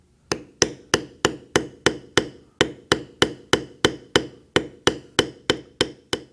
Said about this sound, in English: I'm doing that with a rather large beveler.